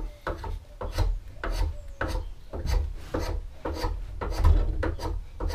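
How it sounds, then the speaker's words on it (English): A spokeshave shaving wood on a three-legged stool, with repeated rasping strokes in a steady rhythm of about two per second, close and clear with no talk. "I am going back to the spoke shave and just taking off material with that"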